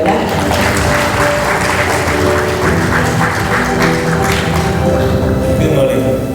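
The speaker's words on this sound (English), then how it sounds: "Let's have a round of applause for him." An audience at an ecological civilization forum session applauds to welcome the session chair, with loud, dense, sustained clapping from start to finish and a voice speaking over it.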